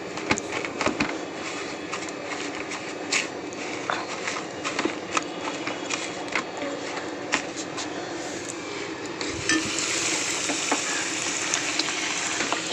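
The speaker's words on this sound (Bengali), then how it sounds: "এগুলোর মধ্যে লাগিয়ে নিয়ে আমি কিন্তু ফ্রাই করব" Cornflour-coated pieces deep fry in hot oil, a continuous close crackle and sizzle with scattered pops that grows denser and louder toward the end.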